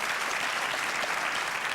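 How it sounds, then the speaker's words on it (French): A TV game show studio audience applauds in a dense, continuous wash of clapping, steady and fairly loud throughout, with no voices standing out. "vous pouvez l'applaudir, il a répondu"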